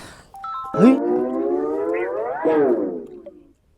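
A mobile phone ringtone plays as a loud, close electronic tone that slides upward like a siren, breaks, then rises again before cutting off after a few seconds.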